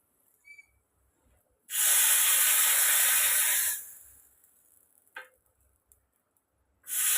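A loud burst of sizzling hiss as hot tempering is mixed into a dish lasts about two seconds and fades, followed by a short second sizzle and another burst at the end, with quiet clicks between.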